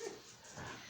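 A dog whimpers softly while being played with, a brief faint whine near the start followed by low rustling at close range.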